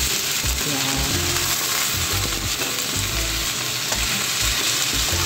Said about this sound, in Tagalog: Halo-haloin lang siya hanggang sa lumambot.